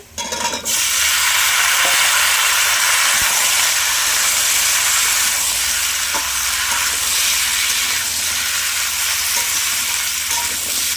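Potatoes and papaya hitting a pan of fried onions set up a loud, steady broadband sizzle and hiss that runs unbroken throughout, with faint stirring clinks underneath and no talk.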